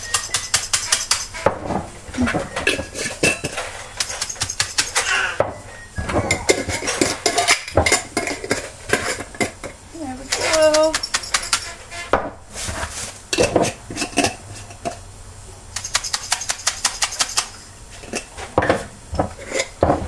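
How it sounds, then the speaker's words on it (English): Glass jars filled with dry oatmeal ingredients are shaken hard, producing loud, close, rapid clattering and rattling in irregular bursts with brief pauses between them, and no voices. "Just a couple little shakes to get that, all the dry ingredients dispersed"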